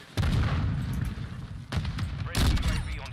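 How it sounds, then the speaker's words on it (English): A frag grenade explosion in Modern Warfare 2 sounds through dense, loud battle noise. Rumbling blasts and gunfire run throughout, with a heavy burst near the end and no clear talk. "Throwing frag."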